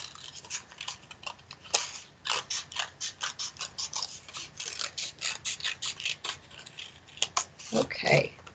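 Scissors snipping through paper while a cat shape is cut out for a finger puppet craft, a close, rapid run of crisp clipping cuts in quick rhythm with a few louder snips near the end.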